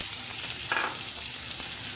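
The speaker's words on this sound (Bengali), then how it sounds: "পেঁয়াজটা একটু ভাজা ভাজা করব" Onions sizzle steadily in hot oil with black cumin seeds, a constant frying hiss with a brief louder crackle as they're stirred.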